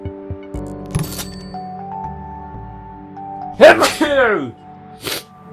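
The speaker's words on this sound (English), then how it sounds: "Told you I would sneeze." A single loud sneeze bursts out close by, following a moment of quiet background hum and light electronic tones.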